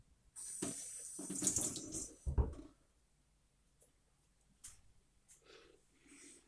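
Water running from a tap while shower gel is lathered, a short splashing burst then quieter dribbles and faint trickles, close up with no talk.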